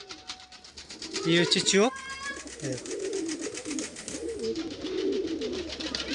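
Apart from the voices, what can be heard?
pigeons cooing, fancy Kaldam and Laldam breeds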